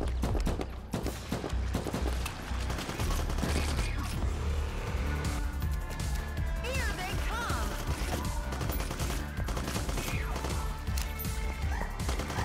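Explosions and gunfire in the space twin-stick shooter game From Space, with dense, continuous crashes and rapid shots layered over game music, loud throughout, and a voice speaking briefly over it.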